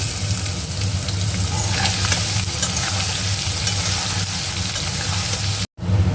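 Chopped onion frying with potatoes in a pan, a loud, steady sizzle with occasional stirring scrapes, close up, briefly cutting out near the end, no speech.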